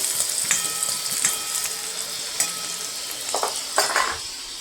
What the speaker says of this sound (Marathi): चांगला कांदा लाल होईपर्यंत भाजून घेते